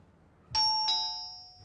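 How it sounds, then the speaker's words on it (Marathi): A household doorbell sounds a clear two-tone ding-dong close by, the two chimes ringing out and fading over about a second against a quiet room. "अरे ही बेल नाही रे, फोनची नाही, ती दाराची बेल वाजली"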